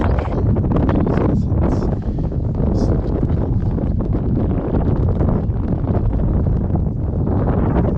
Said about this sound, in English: The wind is not so harsh.